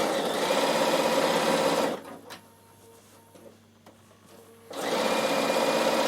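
Bernina sewing machine top stitching at stitch length 3 with coloured thread, a loud rapid mechanical stitching run that stops for a few seconds and then resumes, close and without talk.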